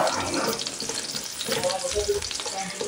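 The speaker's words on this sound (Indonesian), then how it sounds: "Kalau sudah panas, kita mau tumis bawang putihnya," Garlic frying in hot oil in a wok, a steady, fairly loud crackling sizzle with stirring scrapes running throughout, no voices.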